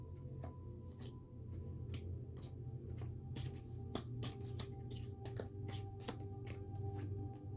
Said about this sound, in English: So I'm going to go ahead and lay out the 10 cards that came out in the beginning.